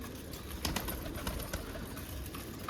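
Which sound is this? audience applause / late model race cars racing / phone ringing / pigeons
pigeons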